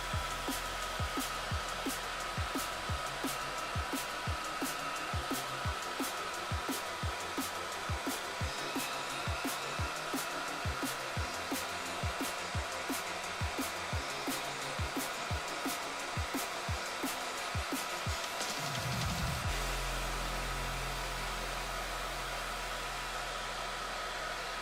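A hair dryer blows steadily on wet paint and ink on a miniature, a loud continuous whoosh with rhythmic faint ticking, then cuts off near the end, leaving a low hum.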